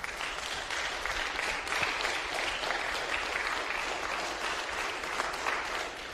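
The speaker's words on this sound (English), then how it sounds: "Let's give everyone a round of applause." Sustained applause from a convention audience at a Democratic nominating event, a steady wash of many hands clapping, fairly faint and distant, with no voices over it.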